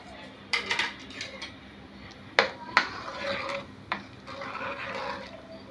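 Metal spoon scraping and clinking against a pan while khandvi batter with green chili, salt and turmeric is mixed, a few sharp knocks over steady soft scraping.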